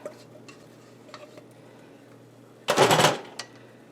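Mac and cheese mixture is dumped into a pan on a stovetop, giving a short, loud wet splattering slop after a few quiet clinks and taps, followed by one small knock.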